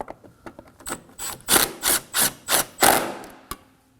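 A ratchet snugs a 10mm bolt on the AC condenser of a 2016-2020 Kia Sorento 2.4L: a handful of close, loud rasping clicks in short even strokes, building then stopping, with no talk.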